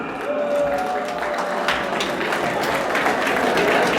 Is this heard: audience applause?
yes